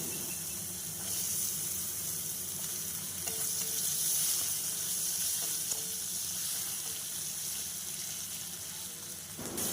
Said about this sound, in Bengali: দিয়ে আলুটাকে এবার আমি একটু ভেজে নেব।